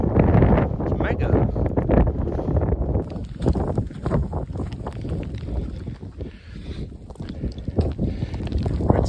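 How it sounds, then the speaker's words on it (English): Wind blowing on a misty Snowdon mountain path, strong rumbling gusts buffeting the microphone throughout under a person's close voice, with footsteps and rustling mixed in. "We're a tiny bit sheltered from the wind here, but it's gone windy."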